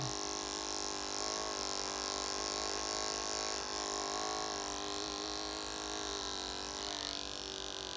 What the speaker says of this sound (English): That comb moves slow and the clipper moves fast.